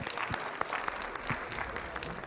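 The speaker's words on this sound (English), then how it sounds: "Let's give a clap to Juliana as well." A short burst of applause at an engineering summit, many hands clapping together in a quick, dense patter from an audience.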